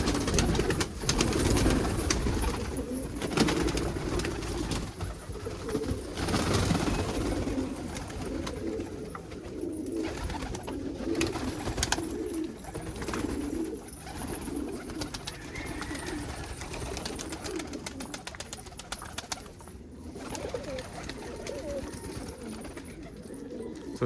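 Pigeons, including crested saddle birds, cooing and fluttering inside a loft, several birds calling near and far with bursts of wing flaps and rustling throughout, a person speaking faintly at times.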